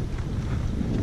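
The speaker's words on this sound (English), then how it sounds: "Wind's blowing in on this whole shoreline." Wind blows steadily along a lake shoreline lined with docks and shade trees, a constant broad rushing buffet across the microphone with no pauses.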